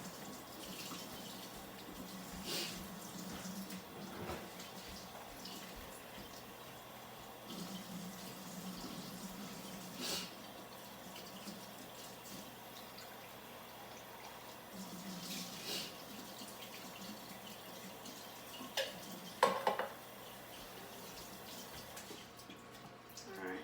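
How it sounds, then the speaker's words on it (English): Tap water runs over canned beans draining in a strainer in a home kitchen, a steady low splashing flow with occasional clinks and brief spikes of handling over a long stretch. "I will drain the beans, rinse them off so they can be added to the mix"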